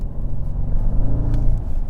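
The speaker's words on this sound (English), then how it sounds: "It's going to turn the combustion motor on right away, and you hear that exhaust note" Bentley Flying Spur Speed V8 combustion engine in sport mode, giving a steady, deep rumbling exhaust note heard close and loud throughout, without talk over it.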